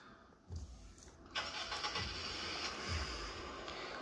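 A 2019 Jeep Rubicon in a video game cranks and starts, a few low engine thumps leading into a steady close idle rumble.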